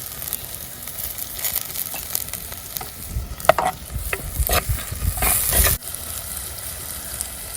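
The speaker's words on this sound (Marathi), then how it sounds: "तर आता कांदा टोमॅटो छान आपण तेलामध्ये परतून घेतला आहे" Onion and tomato sautéing in oil in a pan over a wood-fired stove, with a soft sizzle under repeated stirring scrapes and clatters that grow busier midway before settling back.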